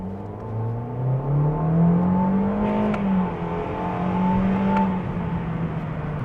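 Engine of a 2021 Toyota Corolla SE sedan with 169 horsepower revving up steadily in first gear, a continuous rising and falling engine drone heard from inside the cabin, fairly loud with no talk.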